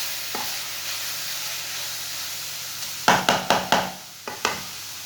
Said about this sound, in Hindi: 5 मिनट तक मैंने चम्मच चलाते हुए गाजरों को भून लिया।